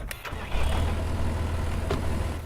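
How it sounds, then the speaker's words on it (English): A tractor engine in the farming video game Farmer's Dynasty runs with a steady, loud low rumble and hum throughout, without variation and with no voices. "Jump into our tractor and run this way."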